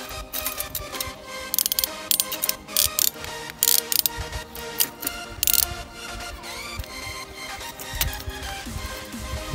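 A ratchet tightens hardware on a pole with a steady run of close metallic clicks, some louder strokes standing out, and no talking.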